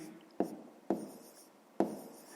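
A pen writes on paper during a maths lesson, three quiet, evenly spaced strokes scratching close to the microphone against a faint background.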